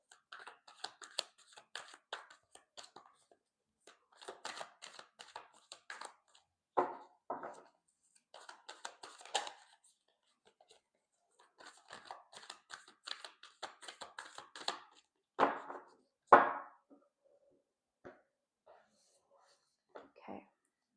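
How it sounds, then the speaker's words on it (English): A deck of tarot cards is cut and shuffled by hand, giving soft, close papery slaps and riffles in scattered bursts with a few louder flicks near the end, set in a quiet room. "Okay, I'm gonna cut this deck a bit."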